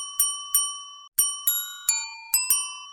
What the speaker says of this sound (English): you can rotate the launcher and hit this target to ring the bell.